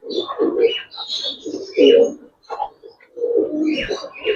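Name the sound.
pigeons cooing at a pigeon farm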